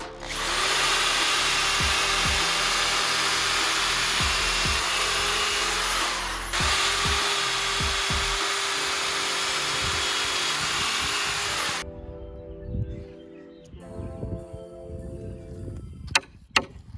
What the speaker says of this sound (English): We're gonna take the 4x4 and pre-drill some holes and put some spikes in there.